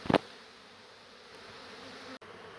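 A faint, steady buzz of bees carries on throughout in a quiet setting during a beehive relocation, with a short knock at the beginning.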